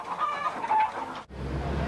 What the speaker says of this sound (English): 400 battery hens were taken from a farm in Staffordshire.